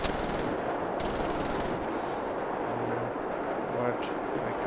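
A heavy, low-accuracy gun in a World War II alternate-history shooter fires in a dense continuous burst, a loud rattling roar that fills the whole stretch with some rumbling impacts underneath.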